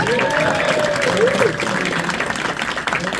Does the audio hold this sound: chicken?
no